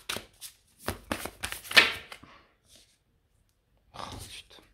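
Tarot cards shuffled by hand in a series of quick riffling bursts, loudest in the first two seconds, then a pause and a softer burst near the end.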